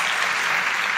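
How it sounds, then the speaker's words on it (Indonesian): A crowd of teens at a church youth service breaks into loud, dense applause, steady and close throughout the short burst. "Let's give them a good hand."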